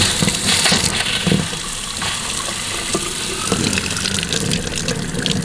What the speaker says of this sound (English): We have running water in the house.